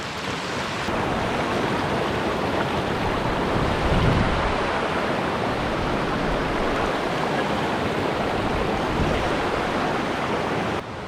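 The Menik Ganga river in Monaragala, Sri Lanka, flows with a steady, dense rushing wash of water, constant and fairly loud throughout, with no voices.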